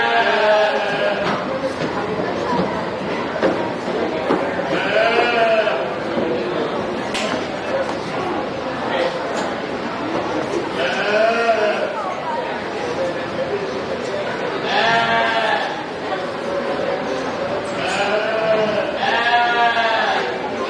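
Goats bleat repeatedly in a county fair show ring, several loud calls spread across the clip amid crowd chatter and an announcer's voice.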